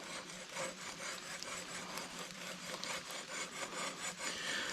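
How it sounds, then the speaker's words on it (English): A machete shaves wet wood into shavings at a bushcraft camp, a faint scraping rasp in short repeated strokes, close by and alone. "So let's see what kind of shavings I can get out of this machete"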